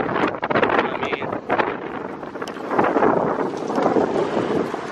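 Strong wind buffets the microphone outdoors in a wooded park during a morning walk, a continuous loud gusting roar that swells and dips across the whole stretch.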